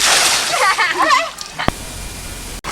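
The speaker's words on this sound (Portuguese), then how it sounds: "joga água no Tico" Water splashes in a swimming pool as children play, a burst of sloshing followed by a sharp slap, with young voices calling out nearby.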